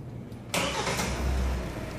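A 2020 Kia Sportage engine cranks and catches about halfway in, jumping from quiet to a loud start, then settling into a steady low idle rumble.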